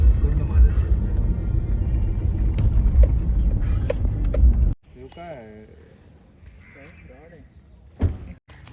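Loud, rushing road noise from passing cars for several seconds, then it drops away to quieter street sounds with people talking nearby.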